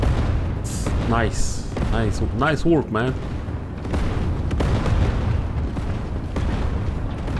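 A deep booming furnace explosion in Sniper Elite 5 rumbles through the scene, with a voice speaking over the low rolling blast and its fading aftermath.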